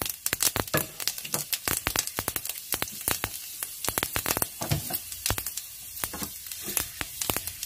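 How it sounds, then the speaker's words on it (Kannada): Mustard seeds popping and sizzling in a couple of spoons of hot oil for a fenugreek-leaf palya, a close, dense run of sharp crackles and spits that keeps going throughout. "ಈಗ ನೋಡಿ, ಸಾಸಿವೆ ಹಾಕ್ತಾ ಇದ್ದೀನಿ."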